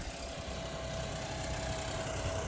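A 63 hp tractor idles in a field beside a forest and road, a faint, steady low diesel hum with a constant tonal drone and no other sounds.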